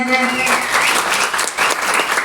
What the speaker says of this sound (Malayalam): എല്ലാവരും വലിയ കൈയടി തന്നെ